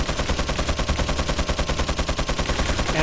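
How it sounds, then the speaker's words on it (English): A minigun mounted on a position in Resident Evil 4 HD fires a continuous rapid stream of shots, each beat evenly spaced and loud, a relentless mechanical rattle with no voices. "he is on top of a minigun"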